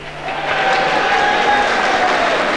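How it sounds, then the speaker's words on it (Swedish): Irish audience members in a large hall at the 1977 Eurovision Song Contest in London breaking into applause and cheering, a dense crowd clapping that swells within half a second and holds loud to the end. "Det finns irländare i salongen som jublar åt tolvan man fick från Israel"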